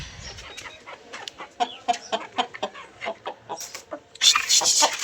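Hens clucking in short, irregular bursts close by as millet is scattered for them, with a louder flurry of clucks and wing flutter near the end and no talking.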